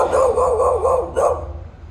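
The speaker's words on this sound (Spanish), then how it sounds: "Hay un perro" A dog barks twice close by, two loud sharp barks separated by a short gap, heard at night while exploring a cemetery in Lima.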